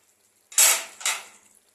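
Small fish curry with chillies in a pan, a Bengali choto macher jhal: a brief metallic scrape of stirring followed by a second clatter as a lid goes on, alone in a quiet kitchen.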